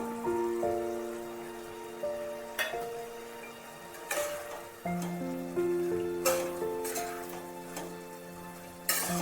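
Fried prawns go into a simmering Bengali banana flower curry, a soft steady sizzle and bubbling under a gentle looping instrumental tune, with occasional stirring clatters and no talk.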